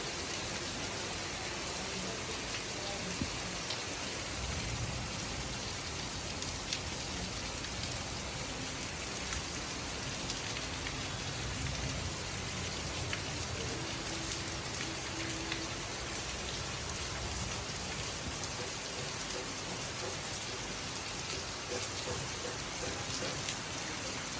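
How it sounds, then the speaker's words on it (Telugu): A sudden outdoor downpour pours down in a dense, unbroken roar of drops striking surfaces, steady and close for the whole stretch, with no talking. "ఇంకా సడన్‌గా వర్షం స్టార్ట్ అయిపోయింది చూసారా"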